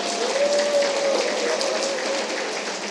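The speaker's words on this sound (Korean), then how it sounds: "큰 박수 부탁드리겠습니다." Crowd applause at a Korean public forum event, a dense steady wash of many hands clapping that fills the whole stretch at an even level without letting up.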